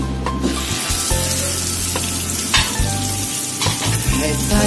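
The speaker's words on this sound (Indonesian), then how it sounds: "kita tumis bumbunya sampai wangi" Spice paste for tom yum sizzles and fries in a hot pan while being stirred, a loud close crackle with intermittent clatters of the utensil, and no talking.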